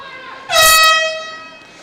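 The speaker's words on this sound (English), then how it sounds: "We got an air horn warning here." A loud, blaring air horn sounds once at a swimming meet, holding for about a second, then fades out gradually.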